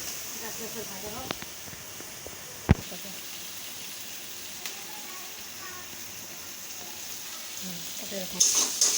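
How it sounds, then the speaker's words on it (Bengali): Onion, garlic and spices fry gently in a pan for a loitta fish curry, a soft steady sizzle with a sharp utensil knock and a few light scrapes, and louder hissing toward the end. "আস্তে আস্তে ভাজা হোক"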